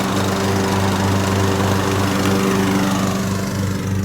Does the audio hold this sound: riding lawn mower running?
yes